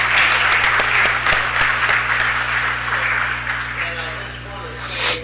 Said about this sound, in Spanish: el aplauso que merecen